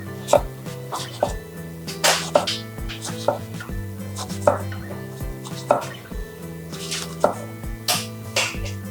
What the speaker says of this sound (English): turning the jalapeno so it goes all the way around, and then this way you can just easily mince it